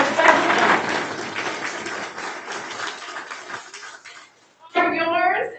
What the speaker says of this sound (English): Another round of applause for our specialists.